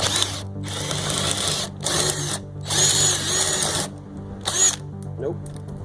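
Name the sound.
power drill drilling out a carriage bolt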